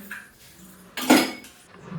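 Dishes being washed in a home kitchen sink, with a loud clatter of pots and cutlery near the middle, then quieter scraping and clinking before and after, no voices.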